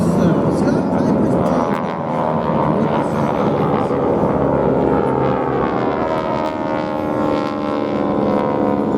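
Skytypers airshow planes pass overhead at the 2019 New York Airshow, a loud, steady propeller drone filling the sky throughout, with a voice speaking over it.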